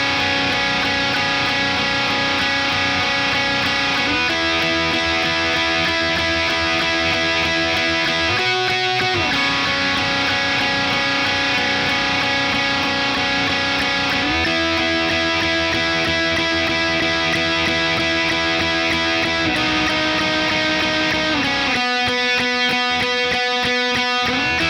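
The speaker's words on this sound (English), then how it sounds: "verse 2 lead would sound like this." A distorted electric guitar plays the second-verse lead of Foo Fighters' "Best Of You," holding sustained, gritty notes that shift pitch every few seconds over a dense, steady wash of sound.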